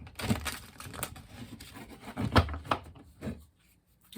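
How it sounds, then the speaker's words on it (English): Tarot deck being shuffled by hand, several soft close riffles and card slaps in uneven bursts, quiet and alone before fading out. "All right, one more shuffle this way."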